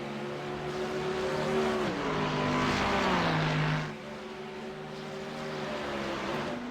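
GT3 race cars, including a Ferrari and a Mustang, roar past at Brands Hatch, a loud engine note swelling and dropping in pitch as one passes, then a second car following at steady volume.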